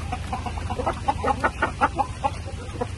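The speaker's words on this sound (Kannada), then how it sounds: "ಈ ಕೋಳಿ ಒಂಥರ ಡಿಫ್ರೆಂಟ್ ಆಗೇನೆ ಇತ್ತು. ಫುಲ್ಲು ಬ್ಲ್ಯಾಕ್ ಕಲರ್ ಇತ್ತು" An all-black chicken clucks nearby in a series of short, rhythmic calls, moderately quiet over a low background hum.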